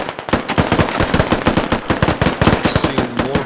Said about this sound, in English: Seeing more fire from militia come out here.